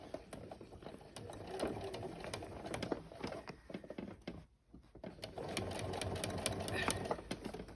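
A home sewing machine stitches through thick Levi's denim for a child's backpack, its rapid mechanical patter running in bursts with a short pause midway, faint and close.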